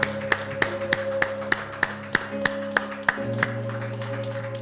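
A church congregation claps in praise during worship, a steady rhythmic clapping of sharp beats about three per second, with sustained music or organ tones underneath.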